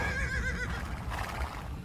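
A horse at the stable in Age of Empires 2 gives a clear, close whinny that rises and wavers, followed by a softer low snort and shuffling, with no talk over it.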